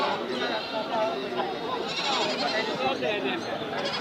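Goats bleat over a busy livestock market, a loud crowded wash of animal cries mixed with chatter from traders and buyers around them.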